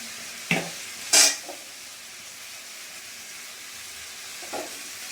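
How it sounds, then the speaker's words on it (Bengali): Papads are dropped one by one into hot oil in a home kitchen, giving short bursts of sharp sizzling hiss, one loud and close, with a fainter low frying hiss between them. "আমি এদিকে পাঁপড়গুলো এক এক করে ভেজে নেব।"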